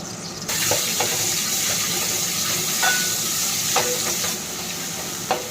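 Cloves, cardamom, ginger garlic paste and turmeric frying in oil for paneer masala curry, a steady close sizzle broken by several scraping stirs of a spoon in the pan.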